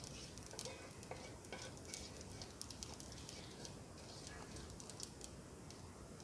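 Nigella seeds frying in hot mustard oil crackle and sizzle in a busy, even hiss, with quick light scrapes and taps of a stirring spoon, close and fairly quiet.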